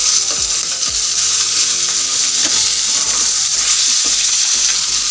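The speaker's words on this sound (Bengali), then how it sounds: "মাছগুলো ব্রাউন কালার করে ভেজে নিয়েছি।" Rohu fish pieces, turned over in a pan, keep frying in oil with a loud, steady sizzle, broken by repeated utensil clinks and scrapes against the pan.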